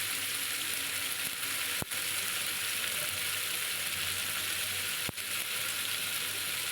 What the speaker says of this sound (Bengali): দিয়ে মশলাটা আর একটু কষিয়ে নেব